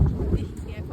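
Cold wind blowing outdoors near a university, buffeting the microphone with a steady low rumble throughout the short moment.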